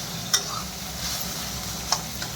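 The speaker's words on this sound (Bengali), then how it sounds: "আর একটু ভাজবো, এটা মাছটাও ভাজা হয়ে যাচ্ছে" Fish frying in a pan on a home stove keeps up a steady close sizzle, with a couple of sharp ticks from the spatula as it is stirred.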